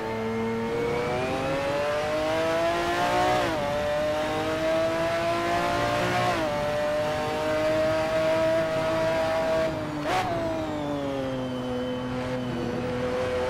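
Race car engine in the Assetto Corsa racing game, droning steadily at high revs with several sharp gear-change dips and rises, alone without talk.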